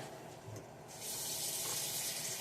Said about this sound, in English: now you want to add some water